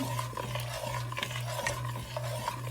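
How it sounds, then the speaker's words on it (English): A spoon stirs four tablespoons of butter into pumpkin soup in a pot, giving steady soft scraping and swishing strokes with faint clinks, close and alone under a low background hum. "we're adding 4 tablespoons of butter. And I'll go ahead and stir that in"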